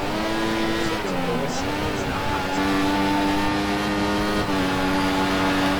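An F1 2014 video game Formula 1 car on an out lap at Silverstone, a loud sustained high-revving engine whine shifting pitch through gear changes, with a voice talking over it.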